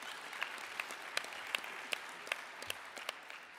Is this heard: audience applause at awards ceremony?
yes